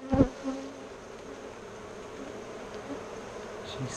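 Honeybees hum steadily around hive frames during a hive inspection, a close, continuous buzz with a brief knock at the start.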